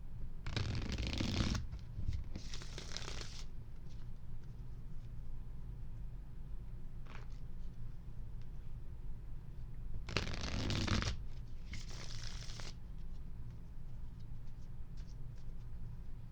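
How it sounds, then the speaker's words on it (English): Tarot cards being shuffled by hand in two bursts of dry riffling and flicking, each about a second or two long, separated by a quiet pause, close and fairly soft with no talking. "I've got my cards here. Give them a good shuffle."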